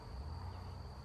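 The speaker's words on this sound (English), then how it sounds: "all of the worker bees, the female bees, are going to start fanning" Worker honey bees fan their wings inside a hive that holds a newly caught swarm and its queen, making a steady, close, continuous drone with a thin high whine above it and no voices.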